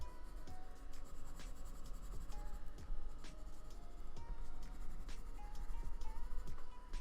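Big graphite pencil sketching on paper, steady close-up scratchy strokes with quick rhythmic scribbles and no talking.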